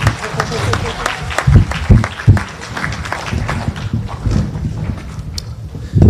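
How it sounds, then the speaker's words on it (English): Round of applause from a school audience at a high school international day assembly, uneven clapping close to the microphone with loud individual claps and rustling, rising and falling. "if we get a round of applause for everyone that made this day happen."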